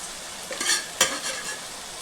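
Boiled prawns tipped into a ridge gourd curry in a pan, with a soft sizzle and two brief scraping stirs close by.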